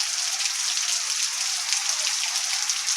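Heavy rain pours down in a dense, continuous hiss, loud and close, with no other sounds.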